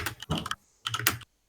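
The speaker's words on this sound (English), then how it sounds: "I'm unsure who's typing" Two short, close bursts of rapid keystrokes on a computer keyboard, separated by a brief pause, with quiet room tone between them.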